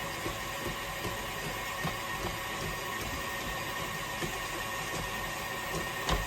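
An electric mixer beats a butter pecan ice cream base with a dash of salt until frothy. It gives a continuous close whirring drone with faint rattles, steady throughout with no speech.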